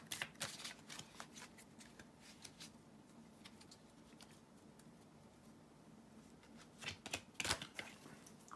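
Tarot cards being shuffled by hand in close, quiet bursts of riffling and flicking, with a lull in the middle and more shuffling near the end, and no voice.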